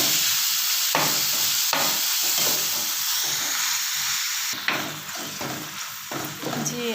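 Chicken frying in a pan hisses with a loud, continuous sizzle, broken by repeated stirring scrapes and small knocks of a utensil against the pan.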